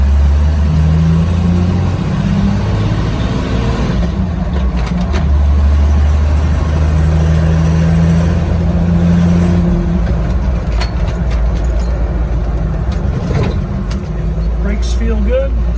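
A 1983 Jeep CJ7 being driven: a steady, loud engine drone fills the whole stretch, shifting pitch with throttle, with road rumble and cabin rattles, and someone talks over it.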